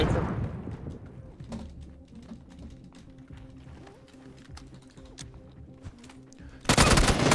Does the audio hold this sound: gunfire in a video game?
yes